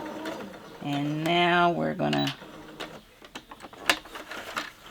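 A sewing machine stitches a lined zipper pouch backwards and then forwards, its motor giving a steady whirring hum with a pitch shift and a brief pause, followed by clicks and handling noise while a person speaks.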